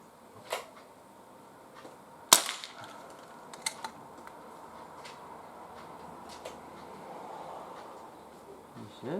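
A Crosman 2300T CO2 pistol firing Webley VMX pellets outdoors gives one sharp, loud crack, followed by a few fainter ticks and clicks over quiet outdoor background.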